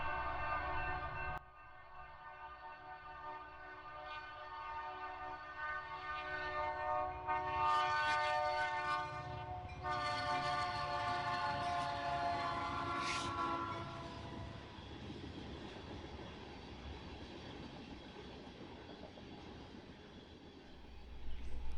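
A train rumbles along the tracks at an old ghost town, loud and steady. Its horn sounds in long sustained blasts, and the noise slowly fades as the train moves off.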